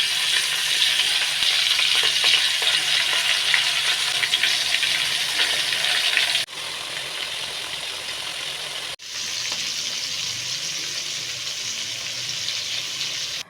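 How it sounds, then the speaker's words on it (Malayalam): Masala-marinated chicken pieces fry in hot oil at home for a Kerala chicken curry, giving a loud, steady sizzle that continues without a break. It dips briefly twice where the pieces are added or stirred, and nobody speaks. "ഇനി പാത്രത്തിൽ എണ്ണ ചൂടാക്കി മസാല തേച്ച് വെച്ചിട്ടുള്ള ചിക്കൻ ഓരോന്നോരോന്നായിട്ട് വറുത്ത്"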